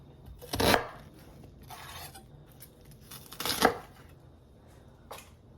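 Knife slicing an onion lengthwise on a cutting board for turkey chili, two sharp clustered bursts of chopping with a few lighter taps between, close and fairly quiet in an otherwise calm kitchen.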